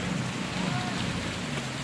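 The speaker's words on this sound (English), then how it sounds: "It's raining really hard." Heavy rain pouring down outdoors in a storm, a dense, steady wash of hiss that stays loud and constant throughout with no pauses.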